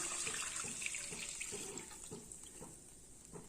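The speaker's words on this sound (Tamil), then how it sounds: "இப்போ இது பால் விட்டுக்கலாம்" A steady stream of milk pours and splashes into a pan with rice for rice milk payasam, continuous and close, with no talking.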